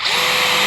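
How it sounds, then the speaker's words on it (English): A power drill boring rivet holes through the sheet-metal cap of a standing seam roof, a steady high whine held close and loud for the whole short burst. "I can consistently drill my rivet holes at the correct height off the edge"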